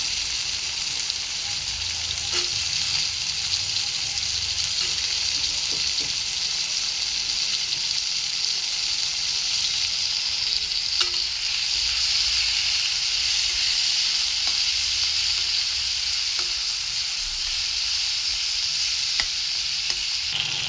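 Cut potatoes fry with onion and tomato in a pan, giving a steady, close, hissing sizzle that barely changes throughout, with only a few faint ticks and no speech.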